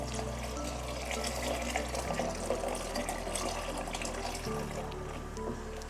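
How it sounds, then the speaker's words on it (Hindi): Chickpea cooking water poured into a pan of fried paste while making Lahori chanay, a continuous close splashing pour over a low steady hum, with no talking. "अब इसमें मैं ऐड कर दूँगी ये चनों का पानी।"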